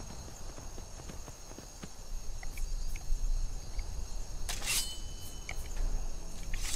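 Horse hooves clop steadily at mid distance while riding in the video game Skyrim, over a bed of chirping crickets, with a few short clicking sounds near the end.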